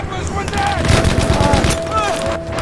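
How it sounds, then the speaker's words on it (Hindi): Heavy rapid gunfire rattles in a World War II shooter campaign battle in Battlefield V, dense bursts of shots with whizzing rounds close by, alongside a speaking voice. "बहुत तेज गोलियां चल रही"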